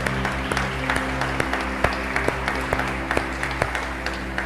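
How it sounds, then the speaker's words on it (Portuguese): A church congregation at the end of a service claps steadily and loudly, with scattered sharper claps standing out over a low hum. "Pode aplaudir ao Senhor."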